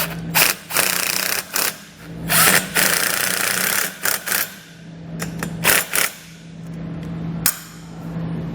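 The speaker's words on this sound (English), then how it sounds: "I'm just going to take some self-tapping screws and mount it directly to those posts" Cordless power driver sinking self-tapping screws to mount a wiring plug on a base plate during a towing wiring kit install on a 2008 Jeep Wrangler, several short whirring bursts with ratcheting clicks, close and loud.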